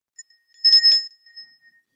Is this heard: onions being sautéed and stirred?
no